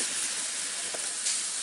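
Grated cauliflower and carrot are added to spices frying in a pan, making a steady, close, loud sizzling hiss with no talk.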